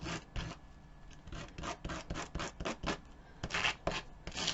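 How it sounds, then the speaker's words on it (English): Sandpaper rubbing back and forth along the freshly cut edge of a small pitchy wooden piece for a Dollar Tree calendar sign, a close rhythmic series of short rasping strokes with no voices. "I took my sandpaper and I just sanded"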